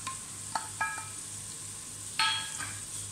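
Chopped onions frying in a pan with a ginger, green chili and garlic paste for Kathiyawadi undhiyu, a steady soft sizzle broken by a few scraping stirs of the spoon against the pan.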